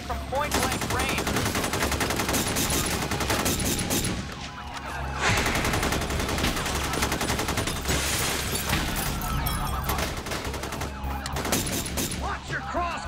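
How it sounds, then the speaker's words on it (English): Heavy gunfire during the North Hollywood shootout, dense bursts of automatic and rapid shots with sharp cracks and echoes filling nearly the whole span, briefly easing once before resuming, with shouting voices and a distant siren mixed in. "Shots are firing everywhere."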